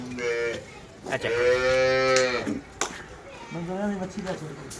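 Cholistani and Jersey cross cattle moo in a series of long, loud, drawn-out calls close by, with someone talking between and over them.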